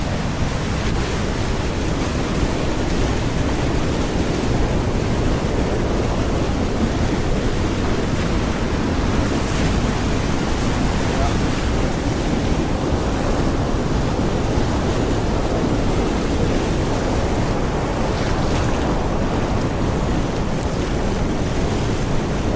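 Constant roar of rushing water at river rapids and a waterfall in a forest reserve in Pahang, a dense broadband wash that stays loud and unbroken with no voices.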